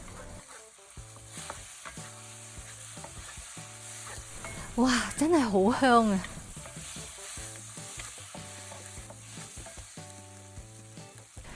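Penang char kway teow with egg is stir-fried in a wok, giving a steady sizzle broken by rhythmic scraping stir strokes; a voice briefly exclaims midway over the cooking.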